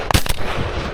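A shotgun blast in an open field while hunting doves in a storm, a single loud close report followed by a rumbling tail.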